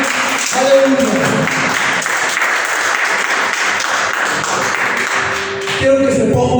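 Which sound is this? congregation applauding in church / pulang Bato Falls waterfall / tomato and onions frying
congregation applauding in church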